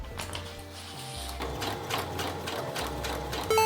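A sewing machine stitches fabric for a Rosalina cosplay costume, a rapid mechanical whirring hum running in short bursts that stop and restart, close and fairly quiet, with no voices.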